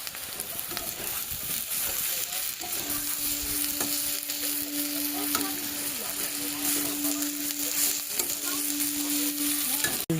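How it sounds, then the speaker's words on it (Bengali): Potatoes stir-fry with onion and green chili in a pan, with a close, busy crackle and sizzle broken by frequent scraping stirs, over a faint steady hum. "একটু পেঁয়াজ আর লঙ্কা চালাটা দিলে আলু ভাজাটা খুব ভালো হয়"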